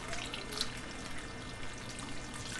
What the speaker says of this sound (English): Let's get some water here.